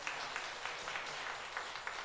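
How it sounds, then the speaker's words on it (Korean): Congregation applauding during an Epiphany Sunday church service, a quiet, steady patter of many hands with soft rises, heard from a distance in the hall. "여러분 애기 엄마 박수 한번 좀 주시고요."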